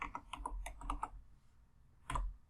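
Typing on a computer keyboard: a quick burst of rapid key clicks, a short pause, then one more pair of strikes, close and clear with no voices.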